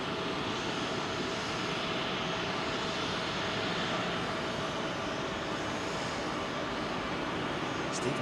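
A Boeing 747 jet at Heathrow runway 27L gives off a continuous broadband engine roar at moderate distance, steady and even throughout with no talk over it.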